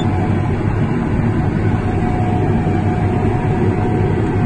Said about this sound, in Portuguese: O trator anda macio, hein?